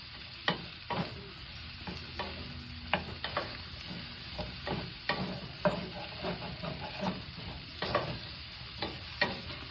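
Vegetables stir-frying in a hot pan sizzle steadily while a utensil scrapes and knocks against the pan in irregular bursts, close and fairly quiet, with no voices.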